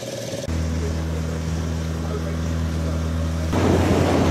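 A motorboat rides out from the Bhimulavaripalem river landing, its engine a steady low drone that holds throughout, then grows rougher and louder near the end as wind and water noise rise.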